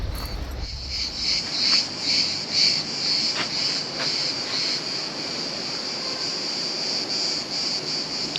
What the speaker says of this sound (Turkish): Ağustos böcekleri sürekli ötüyorlar